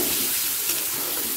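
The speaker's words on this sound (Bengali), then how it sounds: "দিয়ে দেব একটা মাঝারি সাইজের পেঁয়াজকে কুচিয়ে নিয়ে তেলের সাথে হালকা লাল হওয়া পর্যন্ত" A medium onion, finely chopped, frying in oil in a pan for a Bengali egg curry, giving a steady, dense, close hiss of sizzling with no breaks or talk.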